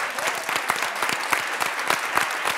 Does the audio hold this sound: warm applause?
yes